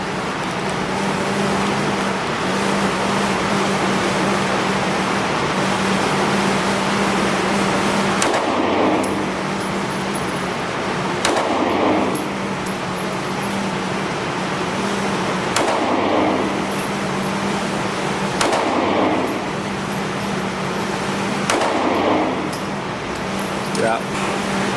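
Several loud gunshots from a newly bought gun fired at a target on a gun range crack out one by one at spaced intervals over a steady background hum, with people talking around them.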